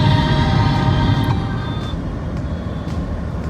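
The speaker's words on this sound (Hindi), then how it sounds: "भाई निकलते ही ट्रैफिक जाम की कंडीशन देखो भाई" Dense road traffic crawling in a jam at a residential society gate, a steady loud rumble of engines with faint horn-like tones and occasional high clicks, no talking.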